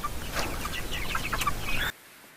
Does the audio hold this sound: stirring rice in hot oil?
no